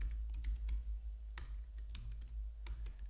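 Someone types on a computer keyboard, a loose run of fairly close keystroke clicks with short pauses between bursts, set against a low steady hum and no talking.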